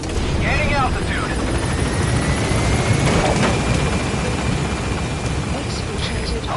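A helicopter lifts off in the video game Metal Gear Solid V, its loud, constant rotor roar filling the scene while a radio-style voice talks over it.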